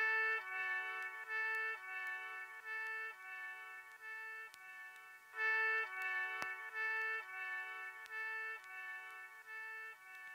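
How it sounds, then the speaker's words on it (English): Chopped music sample with sustained tonal chords cut into short repeating segments, each slice starting and stopping abruptly in a steady stuttering rhythm, clear and alone without voices. "so I took everything else out, and then I chopped it in such a way that sounds like this"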